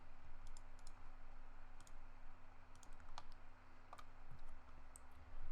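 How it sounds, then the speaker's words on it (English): Typing on a computer keyboard, with irregular bursts of crisp key clicks and taps close up over a steady low electrical hum, no voices. "I'm going to create that by hitting tab and typing it in"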